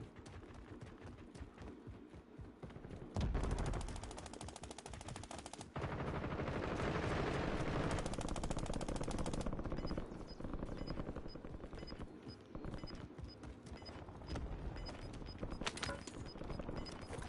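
Sustained automatic gunfire from the Warzone video game, rapid machine-gun rattles nearly continuous with a loud burst around the middle, a game battle with little speech.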